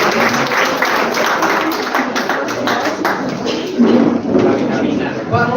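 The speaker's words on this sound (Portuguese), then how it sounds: "Aplauda o Senhor mais uma vez." A church congregation applauds together in a sustained round of clapping. Voices mix into the clapping throughout.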